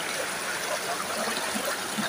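Clear water flowing steadily through channels in Chatral Valley, Pakistan, a continuous close rushing and gurgling wash that stays even for the whole moment.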